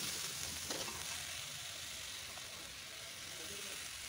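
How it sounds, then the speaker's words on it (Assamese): Veg chowmein noodles frying with browned onions in hot refined oil give a loud, continuous close sizzle and hiss, with faint stirring scrapes throughout. "এতিয়া আমি ইয়াত নুডলছখিনি যোগ কৰিব লাগিব"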